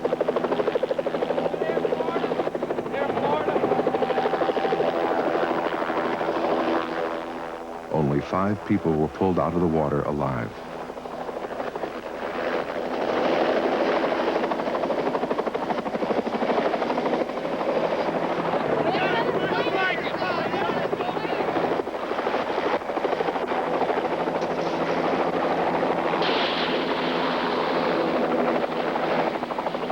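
Helicopters hover over a river during a rescue search after a plane crash, a steady rotor drone running under narration throughout, with a brief rumble partway through.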